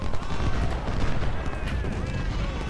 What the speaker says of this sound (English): And 20-pounders also refocus your fire on Brown